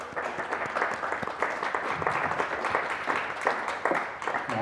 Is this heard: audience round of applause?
yes